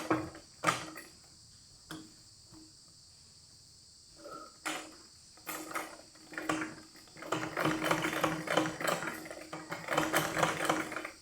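A sewing machine stitching cloth for a four-panel petticoat runs in short rattling bursts, then longer quick runs, close and clear in a quiet room with no voices.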